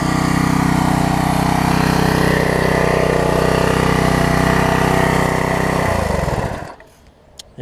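A Coleman pressure washer's small engine runs steadily at a constant drone for several seconds, then cuts out and winds down to near silence.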